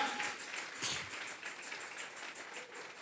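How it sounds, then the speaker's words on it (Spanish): A church congregation claps along during a Sunday service, with faint, steady rhythmic hand claps at a distance and no talking over them. "Dele fuerte esas palmas al Dios de la gloria."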